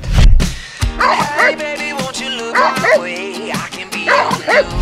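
A dog gives a run of close, high-pitched yips and whimpering barks, some drawn out into whiny howls, in several bursts with brief pauses between them.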